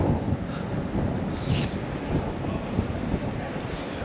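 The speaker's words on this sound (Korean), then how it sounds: "와, 바람 뭐지?" Strong cold wind buffets the microphone outdoors on a winter street in Insadong, Seoul, a steady low roar and rumble with gusts throughout and no talking.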